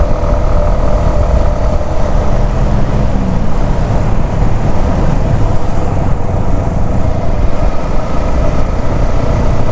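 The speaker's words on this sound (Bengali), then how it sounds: "খুবই স্মুথলি বাইকটা স্পিড আপ হয়।" A Suzuki Intruder motorcycle engine drones loudly and steadily, a continuous close-up rumble with no clear rise in pitch, and no voices.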